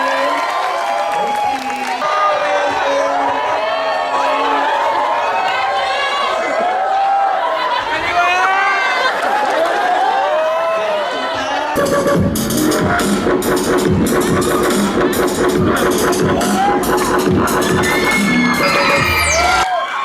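Classroom of Filipino nursing review students, children's group at a Christmas coaching session, clapping and cheering loudly as a crowd, with shouts and chatter throughout and a denser burst of applause in the second half.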